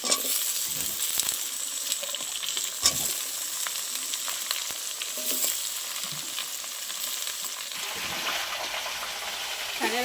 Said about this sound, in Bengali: দিয়ে দিচ্ছি কেটে রাখা পুঁই শাক।